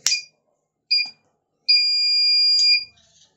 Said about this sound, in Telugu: ఈ విధంగా మనకి ఈ బజర్ అనేది మోగుతుంది